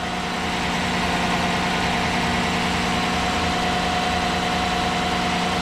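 A GM truck engine idles steadily after a high-pressure fuel pump replacement, an even, loud, close rumble with a constant mechanical whine and no speech over it.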